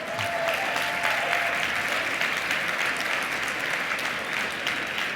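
An audience at an education event applauds panelists and speakers with a full, sustained round of clapping from many people, steady and uninterrupted from start to finish.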